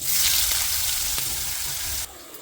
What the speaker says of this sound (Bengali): ফাইনালি এখানে আলু ভাজাটা বসিয়ে দিই